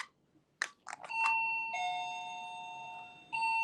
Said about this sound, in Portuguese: Tá chegando alguém. Isso é uma campainha